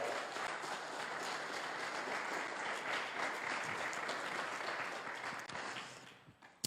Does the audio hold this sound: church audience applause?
yes